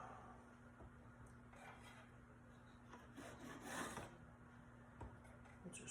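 Knife sawing through a homemade loaf of bread, a steady close rasping and rubbing with a louder stretch of cutting midway, over a faint constant hum.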